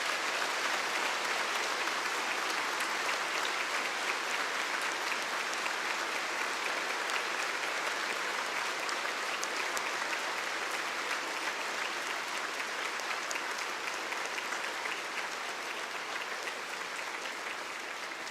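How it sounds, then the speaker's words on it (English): A long, sustained round of applause from a large crowd at a 2022 bar exam passers' oath-taking ceremony, steady dense clapping that continues unbroken for the whole stretch with no voices over it. "give a big and long round of applause"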